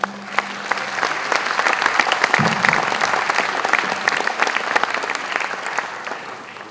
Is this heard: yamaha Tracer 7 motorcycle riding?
no